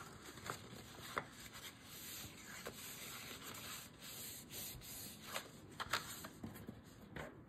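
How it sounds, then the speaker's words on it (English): Paper is folded down the middle and creased to form a hinge for a Graphic 45 Little Things scrapbook album, a soft close rubbing and sliding with light scraping taps. "So we're just going to fold that right down the middle there."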